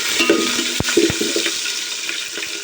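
Green chilies and bay leaf fry in hot oil. Bursts of crackling sizzle open the passage, with a few sharp pops and spatters, then settle into a steady close hiss.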